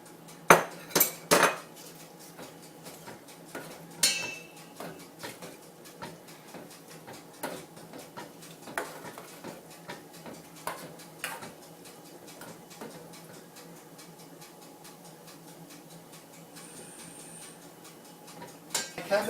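Cabbage is tipped into a pan and cooked. A few sharp knocks open the clip, then steady clinks and taps of a utensil against the pan come at irregular intervals over faint background noise.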